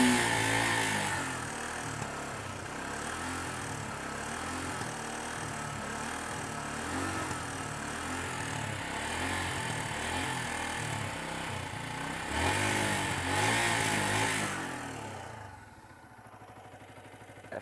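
A Yamaha YZF R125 motorcycle engine runs steadily with repeated revs, a single bike close by, rising in two louder bursts before cutting to quiet at the end.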